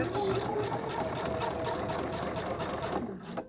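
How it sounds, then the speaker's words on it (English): Sewing machine stitching steadily at a fast, even rhythm, loud and close, running continuously before slowing near the end; faint talk sits underneath. "I'm going to speed this machine up just a little bit."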